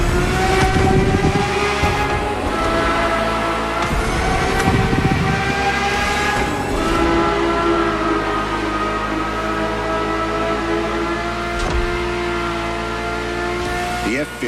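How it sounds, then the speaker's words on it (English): A Ferrari F50's naturally aspirated, Formula One–derived V12 drones steadily and loudly throughout, its smooth sustained tone rising slightly at moments, with a voice talking over it. "The F50 is a mechanical symphonia. No turbocharged V8 here. The F50's core is a normally aspirated V12 that came straight from a Formula One."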